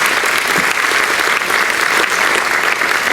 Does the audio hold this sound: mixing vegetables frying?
no